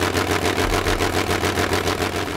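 A from-scratch replica engine of a historic airplane runs steadily at a close, loud level, with a throbbing low drone and a rapid regular beat throughout.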